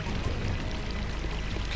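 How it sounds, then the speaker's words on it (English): A water pump in the game Unreal pours a continuous, loud rushing stream of water, steady and unbroken throughout. "This water pump going."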